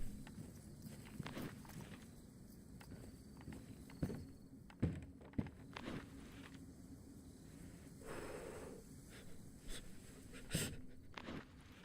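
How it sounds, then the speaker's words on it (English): Footsteps in the video game DayZ, set on an early winter Chernarus map, come as scattered soft thuds and crunches at irregular intervals over a quiet ambient background. "I've just heard some footsteps in there"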